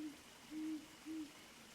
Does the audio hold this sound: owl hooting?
yes